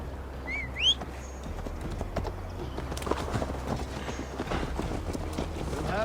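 Horses clip-clop along at a steady gallop in an Assassin's Creed ride, hooves pounding continuously over an ambient game soundscape with a brief bird-like chirp near the start.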